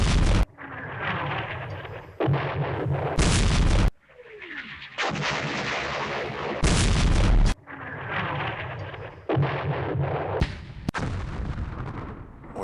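Mortar and artillery fire from the World War II strategy game Campaign Series: West Front, heard as a series of sharp, loud booms and bursts separated by rumbling, crackling stretches of battle noise.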